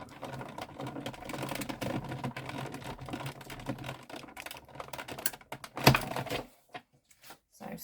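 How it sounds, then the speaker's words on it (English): A die cutting machine makes a cut, giving a stretch of close, rough mechanical grinding and clicking with one sharper snap near the end before it falls quiet, no voices over it. "Just off to the side with my die cutting machine."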